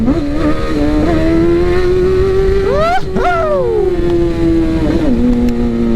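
A loud 2015 Honda CBR1000 sport motorcycle with an aftermarket Toast exhaust revs up sharply, its pitch sweeping high and dropping back, then settling into a steady throaty idle, close to the listener.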